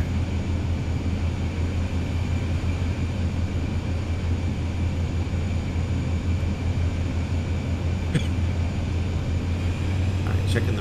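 A light aircraft's engine in Microsoft Flight Simulator 2020 on a dawn runway in Grenada, a steady low drone and hum holding level throughout, with faint brief clicks near the end.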